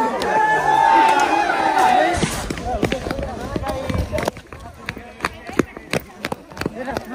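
A large crowd gathered to see elephants fills the scene with dense chatter and shuffling, then thins into scattered voices, footsteps and sharp knocks and claps close by, with someone talking over it.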